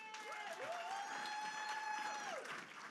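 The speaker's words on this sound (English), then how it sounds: "Let's just clap for her again." Crowd at a book launch clapping in a dense, continuous wash of applause, with a sustained tonal note ringing and sliding over the top throughout.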